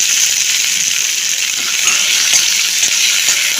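Onions frying in hot oil for tempering horse gram rasam, a loud, steady sizzling hiss with occasional faint stirring clicks.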